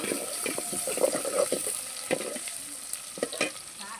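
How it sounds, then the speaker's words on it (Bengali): Chopped onion and garlic fry in a pan, a soft sizzle under intermittent stirring and scraping taps, fairly quiet and close. "এখন পেঁয়াজটা আর রসুনটা ভালো করে ভাজবো।"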